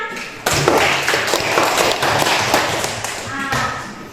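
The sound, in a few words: classroom applause for a student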